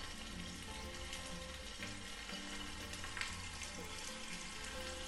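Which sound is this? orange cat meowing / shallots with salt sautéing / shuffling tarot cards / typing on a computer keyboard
shallots with salt sautéing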